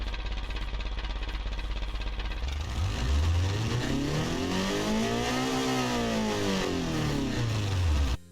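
A video game car engine revs hard through a 57.1 mm straight-through reverse-flow exhaust with a high-flow three-way catalyst, pitch climbing and falling in sweeping surges, loud and continuous with no talking.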